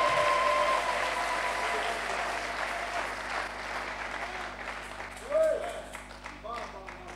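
Loud applause and cheering from a congregation at a French-language church service, a broad sustained wash of clapping that slowly thins, with a voice speaking over it near the end.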